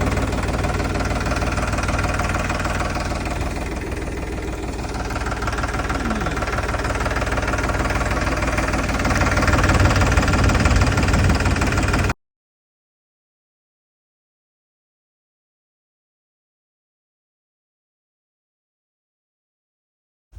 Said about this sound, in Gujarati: ચલો ટ્રેક્ટરને આપણે પોઝિશન ચેન્જ કરીએ